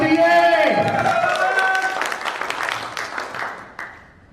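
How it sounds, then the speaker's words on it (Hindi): Seminar audience breaks into applause, a dense wash of clapping that swells and then thins out over a few seconds, following a voice at the start. "एक बार उनके लिए भी बेहतरीन तालियां होनी चाहिए दोस्तों।"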